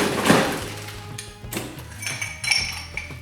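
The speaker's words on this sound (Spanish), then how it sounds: "colocamos el hielo." Ice cubes drop into a glass while a vodka cocktail is being mixed, giving a few separate, close, sharp clinks and knocks with short gaps between them and no talking.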